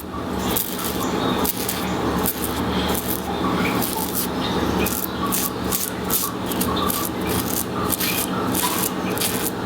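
A Manscaped Plow 2.0 razor scrapes across facial stubble in repeated short rasping strokes, close and steady over a constant background hum.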